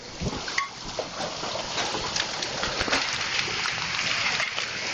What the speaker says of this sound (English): That's some big hail.